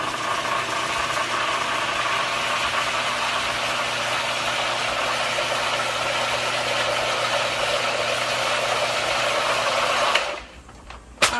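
A blender whirs steadily as it spins a cocoa smoothie, a loud constant motor drone with a faint hum, stopping abruptly near the end with a brief clatter.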